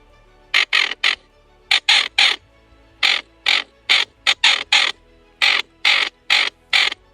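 Raspy, squawking duck calls imitating diving ducks, blown in quick bursts of two or three, close and loud, with short pauses between groups and no talking.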